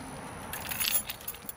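A bunch of keys jangles close by in a short bright metallic shake near a car, lasting about a second over low background noise.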